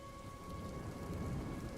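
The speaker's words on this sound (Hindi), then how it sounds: "बारिश अब भी तेज थी।" Heavy rain pours down steadily with a low rumble of thunder beneath it, loud and continuous throughout, in a storm scene from a Hindi cartoon story.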